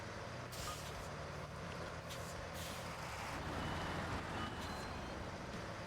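A Tatra truck grinds over rocks in the game Expeditions, a steady low engine drone with occasional hissing bursts and creaks, no voices over it.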